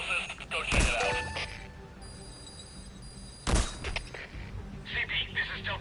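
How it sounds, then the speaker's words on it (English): Explosions go off in Metal Gear Solid V. Two sharp, loud blasts land a few seconds apart, each followed by rumbling debris, with game tones and faint radio chatter between them. "Heard an explosion."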